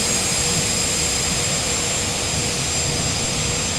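A jet airliner in Microsoft Flight Simulator roars loudly and steadily during reverse thrust after touchdown, a broad constant engine rush with a thin high whine on top and no talk.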